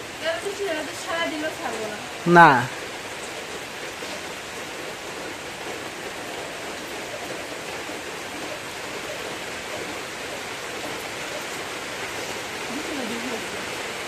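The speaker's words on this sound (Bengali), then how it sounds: "তো এই যে আবারও বৃষ্টি শুরু হয়ে গেল" Steady rain falls in a broad, even wash of hiss that continues throughout; a voice speaks briefly near the start, then the rain carries on alone.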